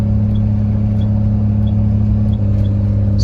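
A car engine in third gear descends a 6.5% grade off a mesa's edge, its steady droning hum holding level and close throughout, with faint rumble and no talk.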